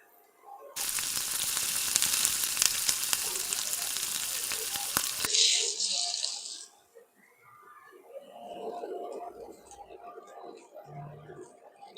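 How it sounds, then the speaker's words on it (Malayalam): Bread slices dipped in a milk mixture sizzle loudly in butter in a hot pan, a dense steady frying hiss that cuts off abruptly, followed by quieter scraping and soft kitchen sounds. "മുക്കി പൊരിക്കാം."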